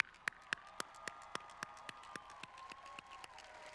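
Graduates and guests applaud at a university commencement ceremony, with sharp isolated claps standing out at a steady rhythm over a soft, sustained wash of crowd clapping.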